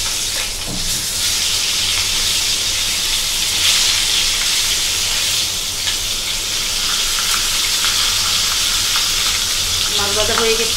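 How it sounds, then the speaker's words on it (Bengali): Rui fish fries in hot oil with a loud, continuous sizzle and hiss, steady throughout with occasional spatters and stirring, no talk. "মাছ ভাজা হয়ে গেছে, এখন উঠিয়ে নিব।"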